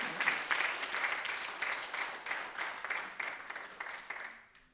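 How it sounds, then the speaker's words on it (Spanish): A church congregation claps for several seconds, a fairly faint, full-room applause with a steady, slightly rhythmic pulse that tapers off at the end. "Démosle un aplauso a Jesús"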